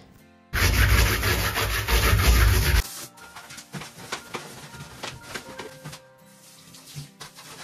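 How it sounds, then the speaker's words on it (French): A stiff brush scrubs a rug, beginning with a loud, dense rasping burst for a couple of seconds, then giving way to quieter, irregular scratchy strokes and light knocks. "je frotte avec une brosse"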